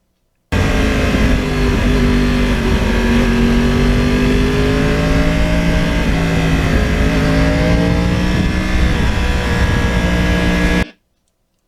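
A 2009 Yamaha R1 with a crossplane inline-four engine and custom features runs loud and close, with its tone rising and falling as it revs for about ten seconds before cutting off abruptly.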